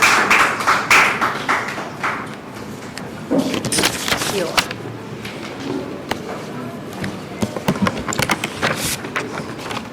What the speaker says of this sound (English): A round of applause as he comes on stage.